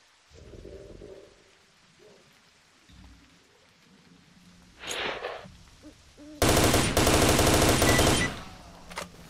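Gunfire from S.T.A.L.K.E.R.: Shadow of Chernobyl comes in short bursts, with scattered muffled shots and then a long, loud sustained volley at the end, over quiet game ambience.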